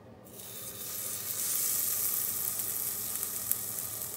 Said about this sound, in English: So now I'm going to place some of these wings into the air fryer.